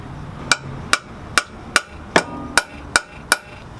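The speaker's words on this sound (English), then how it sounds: "Center punch your mark that you made." Eight sharp metallic hammer strikes land at an even pace on a center punch marking a metal oil pan, each one a bright ringing tap close to the listener.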